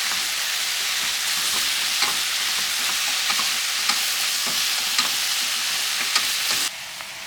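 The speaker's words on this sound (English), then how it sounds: "The recipe says that we saute them until they become fragrant, but you need to make sure you don't brown anything." Kohlrabi and sweet potato sauté in a pot with a steady, even sizzle, punctuated by occasional soft clicks of stirring, close and continuous with no talking.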